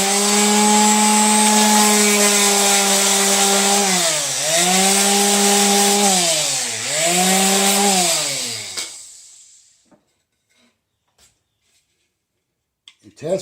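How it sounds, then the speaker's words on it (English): A power sander works a wooden filler piece for an arcade cabinet void repair, whining loudly and steadily with pitch dips as it bears down, then cutting off to near silence with a few faint clicks. "So all we're going to do is take the sander and sand it down some."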